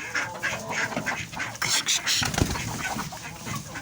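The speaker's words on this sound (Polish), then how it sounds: "kaczki są, koguty są, przepiórki są" Several ducks quack repeatedly and loudly at close range, a busy overlapping chorus with occasional other farm birds, including roosters and quails, mixed in.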